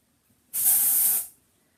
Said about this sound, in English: And spray it.